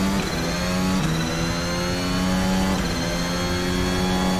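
A car engine drones in a VR racing game with a loud, continuous buzz. Its pitch dips slightly as the car shifts and holds through corners.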